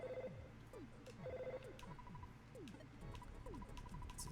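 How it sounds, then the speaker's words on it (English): Telephone ringing in a video game, a repeating electronic ring pattern in short bursts, moderately loud over a busy game soundtrack. "Phone rings."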